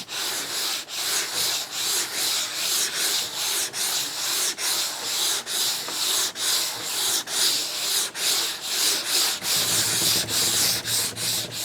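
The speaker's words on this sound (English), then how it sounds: "Just sand back and forth until the patch disappears right into the base." Sandpaper rubbed back and forth over a repair patch on a cross-country ski base, steady rhythmic scraping strokes close up, loud and continuous with no talking.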